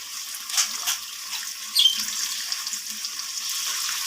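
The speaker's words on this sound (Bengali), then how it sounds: "এরপর আমি মশলা ধোয়া জলগুলো পরিমাণ মতো জল দিয়ে দেব" Spice-washing water poured into a chicken curry: a faint, steady trickle and splash with a few brief louder spurts, with no talking.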